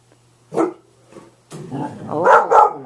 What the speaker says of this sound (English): And who is it that you're barking at?